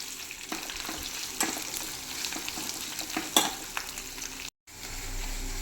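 Ginger and garlic for a fish pickle fry in a pan with a soft, steady sizzle and occasional stirring scrapes, close and fairly quiet, no voices.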